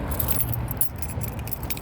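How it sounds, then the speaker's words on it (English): Metal keys jangle and clink steadily for about two seconds, fished out of a shoe outdoors beside a car, close and fairly loud with a brief sharper clink midway. "let me get my keys out of my shoe"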